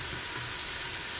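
Onions sizzle steadily in a hot pan for ground beef lasagne, a dense continuous hiss close by with no voices.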